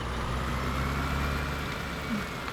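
A pickup truck engine drones in Farming Simulator 17 on the Goldcrest Valley map, a low, steady motor hum held at moderate level throughout with no talk.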